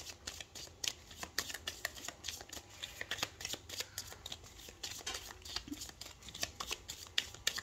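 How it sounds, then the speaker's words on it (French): Tarot cards shuffled and dealt out, a steady run of crisp riffling flicks and soft slaps close by, continuous throughout with no voices. "Alors, on va recouvrir 3 cartes pour les activités professionnelles ou quotidiennes."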